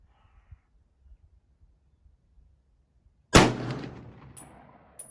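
A single loud gunshot from an old iron firearm cracks after a few seconds of near silence and leaves a long, fading echo, with no talking.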